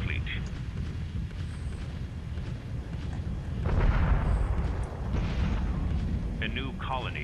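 Missiles fire and explode in a space strategy game, a run of muffled booms and rumbling blasts with bright electronic effects near the end, all quiet in the mix.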